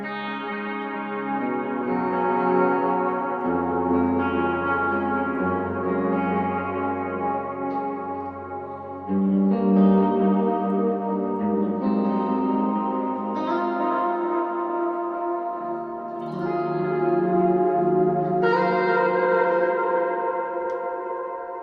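Sustained guitar chords and melodic lines played through a 2019 Friedman 1520 pedalboard with delay repeats and magneto reverb, a loud, washy, echoing sound that swells with each new strum over about twenty seconds, with no voices.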